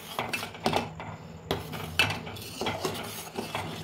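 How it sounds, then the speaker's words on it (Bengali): A spoon slowly stirs milk curdling with lemon juice in a pot over a low flame, giving soft, irregular scraping and clinking strokes up close, with no voices. "এবার ছানা কাটতে শুরু করে দেবে, আমি আস্তে আস্তে আস্তে আস্তে নাড়তে থাকবো"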